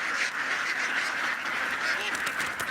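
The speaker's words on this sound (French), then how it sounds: "Des milliers de palmipèdes qui, dans un joyeux cancadement, s'ébrouent en quelques secondes sur des hectares de rizières" Thousands of ducks being released into flooded rice fields quack in a dense, continuous chorus, a loud, steady wash of overlapping calls with no pause.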